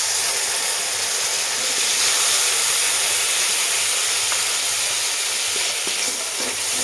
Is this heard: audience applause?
no